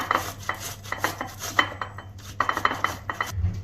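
Halved tomatoes rubbed against a metal grater give a run of quick scraping strokes in an uneven rhythm, close and moderately loud, with light clinks between strokes and a faint low hum beneath.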